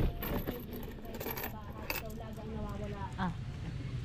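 Coins dropping and jingling as small change is counted out during a cash transaction, a busy clinking texture running throughout with talk in the background.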